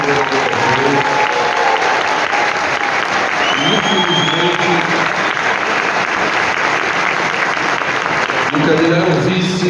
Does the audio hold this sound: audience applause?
yes